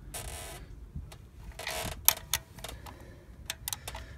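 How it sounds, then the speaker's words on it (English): A wrench tightening bolts on a Kia Optima high-pressure fuel pump gives short metallic ratchet clicks and ticks in scattered small clusters, close and fairly quiet against a faint low room hum. "put the wrench on it, get it a little bit tighter"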